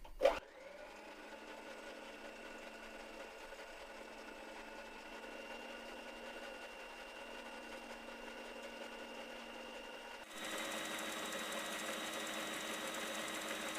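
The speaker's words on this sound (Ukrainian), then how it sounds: "Тепер до білки всипаємо потрошечки цукор і продовжуємо збивати до стійкої білої" Egg whites and sugar being whipped into stiff white foam, a steady mechanical whine running throughout that steps up louder and brighter near the end, with no talking.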